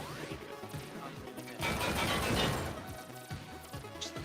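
Cannons boom in the VR video game Cactus Cowboy Land during a speedrun, a loud roaring blast swelling midway through over rumbling game noise.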